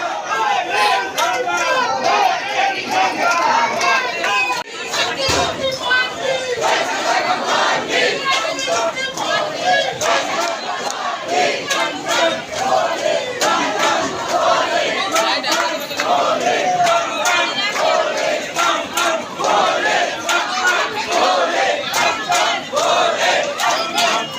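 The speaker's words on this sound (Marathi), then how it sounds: "बिकॉज आज खूप क्राऊड आहे, खूप म्हणजे खूप" A huge crowd at Dwarkadhish temple in Dwarka keeps up loud, dense, continuous shouting and chanting, with chatter running through it.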